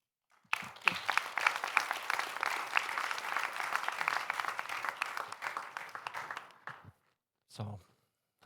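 Audience applause at a sommelier championship final, a dense burst of clapping that starts abruptly, holds steady for about six seconds and cuts off, followed by a brief voice.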